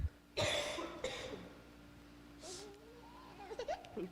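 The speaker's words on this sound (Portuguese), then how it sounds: "É minha tosse e ele junto." A person coughs twice in quick succession, close and fairly loud, then gives a brief breathy exhale before faint murmuring sounds near the end.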